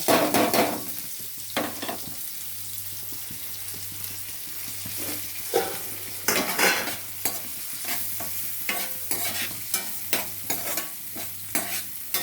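Onion and green chilli frying in hot oil in a pan, a steady close sizzle broken by repeated clattering stirs of a spoon against the pan, with no talking.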